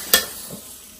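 Paneer sizzles briefly in a hot pan, with a sharp scrape or clink of a utensil at the start and a soft, steady frying hiss underneath.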